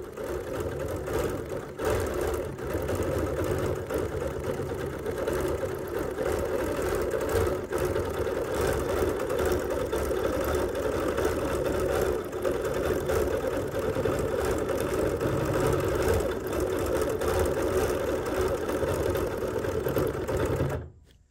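Sewing machine stitching flying geese quilt fabric, a steady mechanical whir running nonstop for about twenty seconds before stopping abruptly, nearby and untouched by speech.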